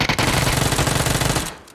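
Automatic gunfire in PUBG, a loud, rapid burst of shots in a fast, even rhythm lasting over a second before cutting off.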